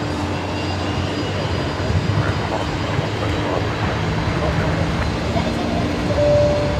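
A Fokker aircraft at Brisbane Airport at night, its engines a steady broadband roar with a low rumble from nearby, swelling slightly toward the end.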